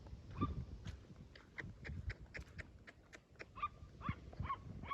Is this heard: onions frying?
no